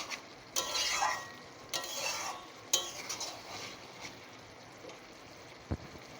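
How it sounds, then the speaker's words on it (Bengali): A spoon gently stirring shrimp with taro greens and stems in a pan, soft scraping strokes and clinks at an irregular pace over a low sizzle, close by and without speech. "এটা হালকা হাতেই মিশিয়ে দেব, না হলে ডাঁটাগুলো সব ঘেটে যাবে"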